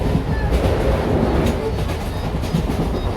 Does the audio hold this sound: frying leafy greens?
no